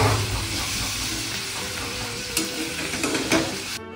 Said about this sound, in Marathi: आणि हे व्यवस्थित मिसळून घेऊया.